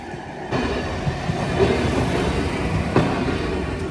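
A train rolling past a railway crossing, a steady, loud rumble with wheel clatter and occasional metallic clanks that swells after the first half-second and holds without a break, with no talking.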